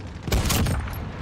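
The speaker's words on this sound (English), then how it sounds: "Receiving hostile fire." Bursts of gunfire from hostile players in Call of Duty, a dense volley of shots swelling for about a second, fairly loud and close, with no talking over it.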